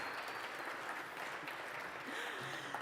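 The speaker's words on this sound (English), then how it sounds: "let's give all of the students a round of applause" Faint, distant applause from an outdoor crowd at a walk-for-freedom gathering, a steady even patter of clapping for the students, briefly overlaid by a voice.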